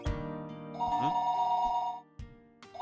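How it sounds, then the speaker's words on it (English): An old-style telephone bell rings in a Japanese visual novel, Higurashi When They Cry, with repeated trilling rings lasting most of the moment before a brief pause and a fresh ring starting. "Phone call? Oh, that's a telephone?"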